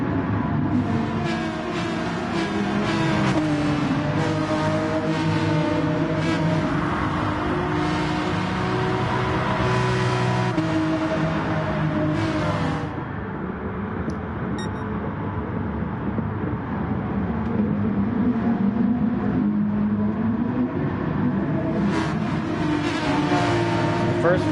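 Porsche 911 RSR race car engine in a racing video game, a loud sustained high-revving drone with shifting pitch through gear changes, lasting throughout under a voice talking.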